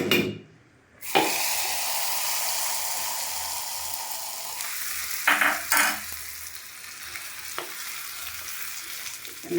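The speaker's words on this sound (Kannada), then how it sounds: "ಈಗ ಚಟ್ನಿ ಹಾಕಿ ನಾನು ನೋಡು, ಚಟ್ನಿ ರೆಡಿ ಮಾಡ್ಕೊಂಡಿದ್ವಲ್ಲ, ಈಗ ಹಾಕ್ತಾಯಿದ್ದೀನಿ" Coconut chutney poured into a sizzling tempering of dried red chillies, a steady fry hiss with a brief drop as the chutney goes in, then spoon scrapes and stirring clinks against the pan.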